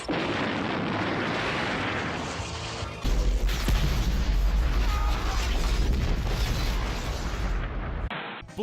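Gunfire in a war film scene with soldiers shooting, dense loud bursts of shots and booms over a heavy rumbling mix, building into a sustained barrage before cutting off abruptly.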